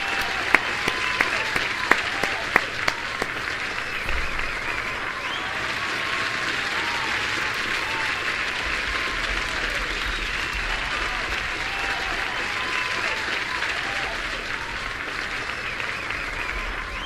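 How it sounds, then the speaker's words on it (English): An audience claps in welcome for Nova on a chat stream, starting with several distinct sharp claps that quickly merge into a dense, sustained wash of applause lasting well over ten seconds, steady and fairly even, with faint crowd murmur beneath. "Let's give her a warm welcome and a round of applause."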